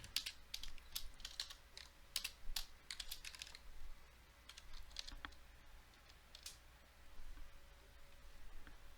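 Fingers type PowerShell code on a computer keyboard in quick irregular bursts of crisp close key clicks, with short pauses between runs and no talking.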